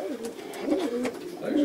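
A pigeon coos close by in soft, repeated throaty rolls over a quiet background.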